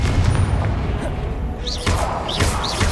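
A Confringo blasting-spell explosion in Hogwarts Legacy, a loud booming burst amid dense game effects, with a voice shouting spell names over rapid magical whooshes and thuds.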